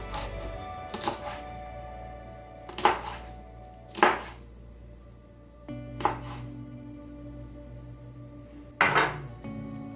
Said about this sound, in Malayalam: ഇനി ഇതിലേക്ക് 2-3 പച്ചമുളക് കൂടി മുറിച്ചെടുക്കാം